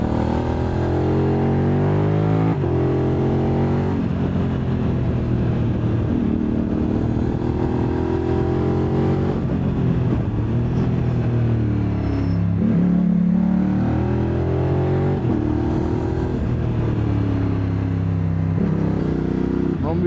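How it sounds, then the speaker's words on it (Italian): The X-Cape 1200 motorcycle's engine drones steadily and loud throughout, with shifting revs and a few rises and dips, and a voice talks over it. "ma come si fa a scendere da sta moto con sto sound?"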